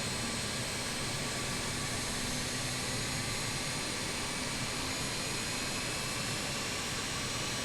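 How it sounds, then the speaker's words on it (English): A BAe 146 jet engine spools up in a flight simulator, giving a steady, broad roar with a thin whine that holds at an even level throughout, with no voices. "Okay, there goes this little engine."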